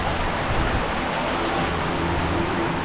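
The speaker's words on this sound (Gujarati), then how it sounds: "ગાઈઝ આપણે આવી જોઈશું ખેતરમાં અને કોઈ વરસાદ આવ્યો જબરજસ્ત." Heavy rain falls over a farm field in a steady, dense hiss that fills the whole stretch, close and unbroken, with no voices.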